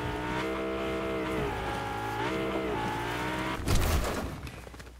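A car engine revs and whines in Fortnite, with steady tonal engine pitch rising and falling, then a louder burst of skidding or impact noise near the end.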